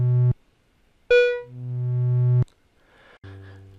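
Volca Modular synth with its mod oscillator patched into low pass gate LPG2, giving a few separate buzzy synthetic notes, one sliding in pitch and holding, with short silences between.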